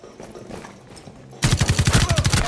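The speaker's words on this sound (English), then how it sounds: "I hear a shotgun. Yeah, they're, they're coming in over here shooting." Rapid repeated shotgun blasts in Rainbow Six Siege start abruptly after a quiet stretch of faint movement, a fast regular string of loud punchy shots close by.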